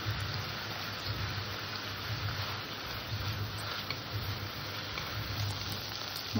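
Spice paste, or masala, sautéing in oil in a pan, a steady close sizzle and hiss with soft rhythmic stirring thumps, no talking.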